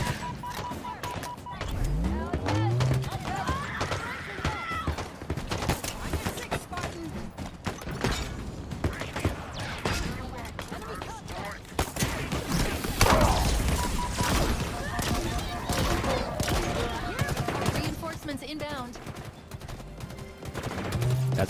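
Gunfire in a Halo video game, bursts of rapid shots crackling through a long stretch of combat alongside crashes and thuds, with someone talking over parts of it.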